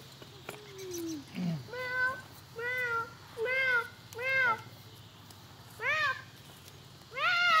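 A cat meows repeatedly and close by, giving about seven distinct drawn-out calls at fairly regular intervals over a faint, steady background hum.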